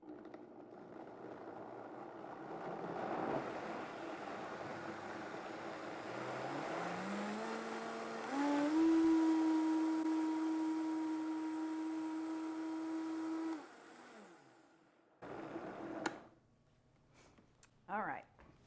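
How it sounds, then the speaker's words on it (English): Kitchen stand mixer running on an island counter during macaroni and cheese prep, a steady motor whir that rises in pitch as it speeds up, holds a loud whine, then cuts off, followed by a few faint clatters. "Okay, we're going to turn the mixer on. I apologize for the loud noise."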